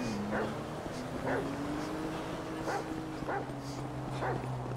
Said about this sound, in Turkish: It's a guy chasing a dog.